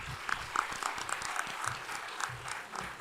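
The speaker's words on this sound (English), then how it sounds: "Can we have a huge round of applause for all of them," An audience at a student entrepreneurship summit applauds in a steady, fairly faint burst of clapping, with a few voices mixed in.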